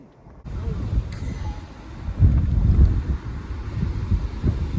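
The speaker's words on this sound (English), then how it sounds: "I hope you can hear because that wind is really picking up" Strong wind blows outdoors at a survival cooking site, a loud steady rumble buffeting the microphone with gusts throughout, and no voices over it.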